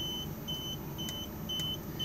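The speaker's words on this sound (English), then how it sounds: "It's going to beep at us, and we're going to get a little red flashing triangle just here" An Auto-Sleepers 2020 Burford Duo motorhome's control panel sounds a warning because the engine is off: a thin electronic beep repeats about every half second, steady and close, over a low vehicle hum.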